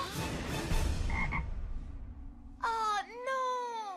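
A cartoon frog croaks twice near the end, loud and close, each a warbling, drawn-out call; earlier a voice speaks and then fades to quiet.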